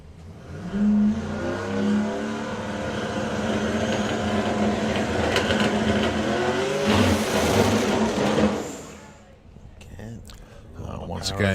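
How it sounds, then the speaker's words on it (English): A Grudge Mustang drag racing car makes a checkout pass at a drag racing festival. The loud engine rises in pitch through several revving surges and cuts off after about eight seconds, with a commentator talking over it. "bringing the Grudge Mustang up to the line then. A checkout pass for him."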